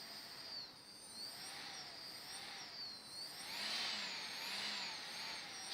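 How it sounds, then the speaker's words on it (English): An Emax 2204 2300KV brushless motor driven by a SimonK 12A ESC spins with a faint, high electric whine that rises and falls in smooth, repeating sweeps as the speed is varied. "That's the motor spinning."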